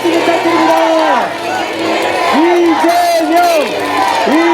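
Large crowd at a political rally for presidential candidate Lee Jae-myung cheering and shouting loudly, voices rising and falling in waves of whoops and chanting throughout, close and dense.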